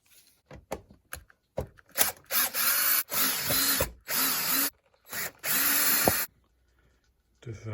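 A power tool works Phillips head screws out of the air filter box on a Ford S-Max 2.0 TDCI, running in several short whirring bursts separated by pauses, with faint clicks and handling noise between them.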